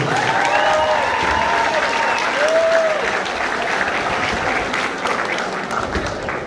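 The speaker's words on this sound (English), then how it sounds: "I want a big round of applause for both of you boxers." A boxing crowd applauds after a bout with a dense, sustained wall of clapping and scattered cheers that slowly fades, along with some voices in the hall.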